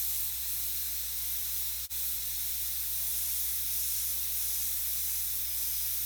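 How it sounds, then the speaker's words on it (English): A generic airbrush with a worn 25-year-old needle sprays thinned paint in a continuous soft hiss, steady and close, broken once by a brief click. "This is just a generic airbrush with a 25-year-old needle"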